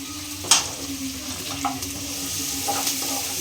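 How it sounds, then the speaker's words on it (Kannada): Onions and green chilies fry in a pan, giving a steady sizzle with a sharp clatter near the start and a few softer stirring scrapes afterward, with no speech. "ಮೇಲೆ ಆನಿಯನ್ ಅದನ್ನು ಕೂಡ ಹಾಕಿ ಚೆನ್ನಾಗಿ ಫ್ರೈ ಮಾಡ್ಕೊಳ್ಳಿ"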